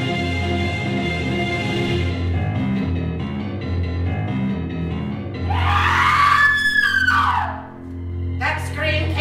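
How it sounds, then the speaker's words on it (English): A woman's high-pitched scream rings out from a laboratory in an audio drama, rising and wavering over a steady bed of droning music, fairly loud and a few seconds long. "That scream came from the laboratory"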